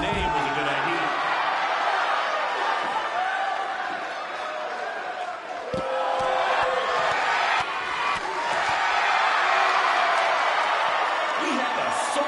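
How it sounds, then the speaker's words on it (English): Arena crowd noise from the WWE 2K19 wrestling video game, a dense sustained roar of cheering and shouting that swells and dips across the whole stretch, with scattered whoops and thuds but no clear talk. "We have a sold-out, record-setting crowd here for BCW tonight."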